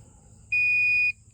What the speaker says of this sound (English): This is an electrical detector, a tick stick, a volt alert. You turn it on, and it'll beep.